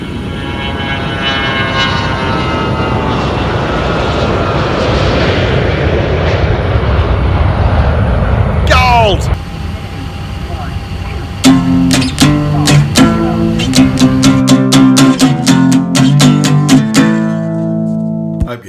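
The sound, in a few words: QantasLink propeller aircraft taxiing and passing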